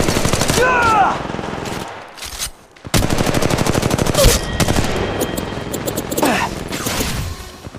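Rapid automatic gunfire from Apex Legends Mobile, with loud, dense bursts of shots broken by a brief lull and then resuming in sustained volleys.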